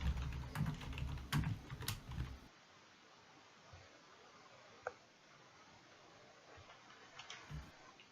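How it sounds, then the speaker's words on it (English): Computer keyboard clatter in short bursts of keystrokes, fairly close and somewhat loud, then the sound drops to near silence with a few isolated clicks. "Myth's thundering keyboard sounds as he tweets out that we're live."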